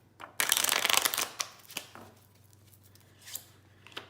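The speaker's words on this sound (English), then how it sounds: "And let me just shuffle one more time." A deck of cards is riffled in a quick, crisp burst, followed by a few softer card taps and slides, close by, during a psychic card reading.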